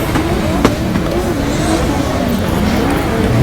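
Nissan S14 drift car at the Federal King of Asia 2015 drift event in Malaysia, its engine droning and revving loudly and continuously with a brief sharp burst early on, close and sustained over crowd ambience.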